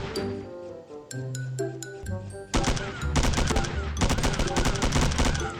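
Rapid bursts of video-game gunfire in Milk Choco, dense repeated shots from about halfway through, loud and close, with game effects and clinks before the shooting starts.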